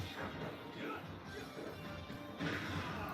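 Forward smash hits landing in Super Smash Bros. Ultimate between Level 9 CPUs, sharp impacts over busy game noise with commentary talking throughout.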